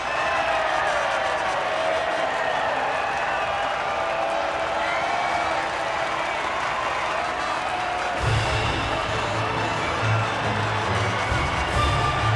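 Cheering crowd at a podium celebration after the F2 22 French GP sprint race, a broad steady roar and applause throughout, with a low rumbling swell joining in the final few seconds.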